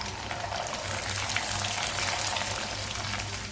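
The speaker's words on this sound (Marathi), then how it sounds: "आपण पापड तेलामध्ये तळण्यासाठी घालूया" Sabudana and potato papad frying in hot oil produce a dense, even bubbling fizz, close and continuous without a break.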